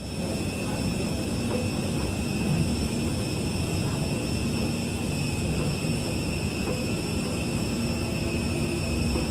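Steady broadband roar of an airplane heard from inside the cabin, a continuous loud engine drone with a hiss that holds constant throughout and has no talk.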